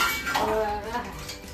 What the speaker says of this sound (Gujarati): સરસ મજાના વાસણ ધોઈ અને ધોઈ મૂકી દો